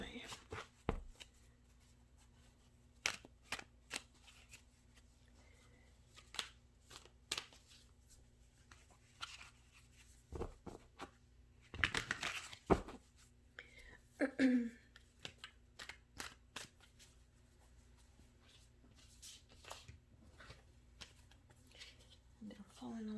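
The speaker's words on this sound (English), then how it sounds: "These cards are so resistant to shuffling." Tarot cards shuffled by hand in bursts of soft riffling and slapping, spread unevenly through a quiet room with a speaker talking at times between the shuffles.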